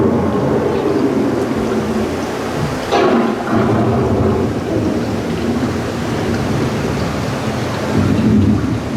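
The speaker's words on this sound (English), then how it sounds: "The approaching storm may seem violent and destructive to us" An approaching thunderstorm on a theme-park boat ride fills the space with a steady wash of heavy rain and low rumbling, a sharp thunderclap striking midway before the rolling storm noise continues.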